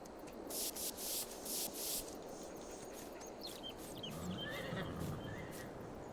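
Horses whinny and neigh in Farming Simulator 22, several loud calls early on over a steady background of game ambience, then quieter snorts and stable noises toward the end.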